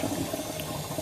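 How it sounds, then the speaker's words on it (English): Tap water runs in a steady, close splashing stream onto Shetland wool being rinsed, a continuous even wash of sound with no talking. "let the water come in and then I put some pressure onto the wool"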